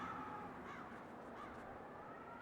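Crows caw in Paper Mario: The Thousand-Year Door, several hoarse calls repeating over a steady ambient background at low, even volume.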